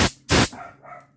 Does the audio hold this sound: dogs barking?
yes